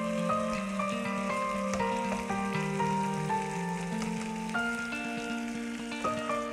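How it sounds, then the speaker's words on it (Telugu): Buns toasting in a hot pan give a steady, close sizzle that runs continuously beneath prominent background music, with no talking. "ఫ్రై చేసుకుంటున్నాను."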